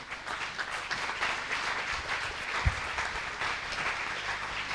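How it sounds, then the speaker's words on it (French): An audience claps in steady, continuous applause at moderate volume, with no voices over it. "Acclamez très fort."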